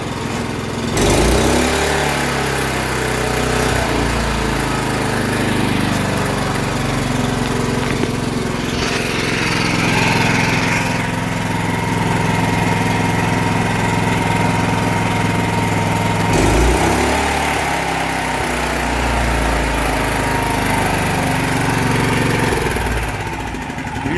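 A Honda GX240 engine on a Wacker generator runs steadily at close range, a loud continuous mechanical drone with a slight change in pitch partway through as the throttle shifts.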